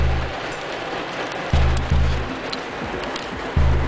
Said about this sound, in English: Since I'm stuck with all the rain and everything.